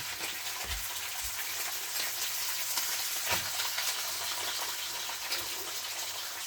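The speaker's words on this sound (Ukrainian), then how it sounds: "Шкварчання пішло, то заготовочка наша гріється, чи цього смажиться, витоплюється жирок" Pork fat sizzles and renders in a frying pan on a stovetop, a steady close crackling hiss with soft pops and occasional low thumps running throughout.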